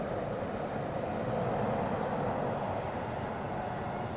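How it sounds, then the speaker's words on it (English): An airliner bound for London, flown as a SkyUp 737 for Air Cairo, accelerates down runway 32 at Zurich Airport, giving off a steady, broad jet roar that holds constant throughout. "Now we have the London flight accelerating down runway"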